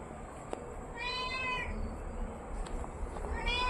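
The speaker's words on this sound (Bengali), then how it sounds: "ম্যাও ম্যাও করছিস কেন রে তুই অত?" A house cat gives two drawn-out meows, one near the middle and one at the end, clear and fairly close over a low indoor hum.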